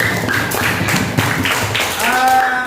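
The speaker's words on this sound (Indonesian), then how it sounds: "Beri tepuk tangan untuk kelompok 1" Schoolchildren in a classroom clap for group 1, a dense patter of hand claps with some taps and thuds, close and steady, while a voice speaks over the end.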